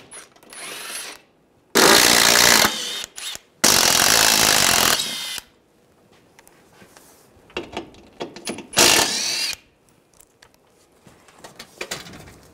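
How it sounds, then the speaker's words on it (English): Tool noise from a 10mm socket on a wrench, taking down bolts on the underbody shield of a 2013-2016 Dodge Dart, comes in loud bursts with quieter clicking and rattling between them. "Underneath, we're gonna take this shield down, use a 10mm socket"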